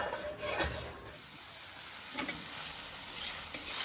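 Potatoes fry in a pan at home, a soft, steady sizzle broken by occasional rasping stirs and a brief tap.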